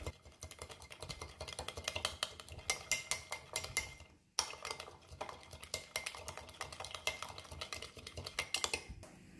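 Rapid whisking of a vinaigrette with brown sugar and black pepper produces a fast, steady clatter of a utensil against a bowl, continuing without pause except for one short break midway.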